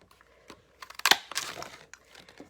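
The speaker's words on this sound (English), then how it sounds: "then you can just punch it out" A handheld craft punch snaps through paper to cut out a stamped daisy shape, a single sharp crunchy click with brief crinkling of the paper before and after, close and fairly quiet.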